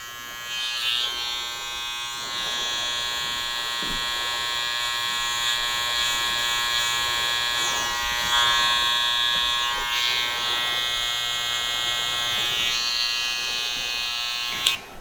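Electric hair clippers hum steadily at close range while trimming sideburns on a grown-out buzz cut, a continuous buzzing tone with slight changes in pitch as the blade moves against the hair.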